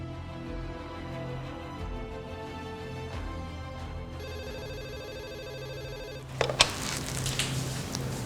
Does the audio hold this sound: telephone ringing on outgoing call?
yes